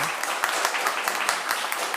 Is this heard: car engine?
no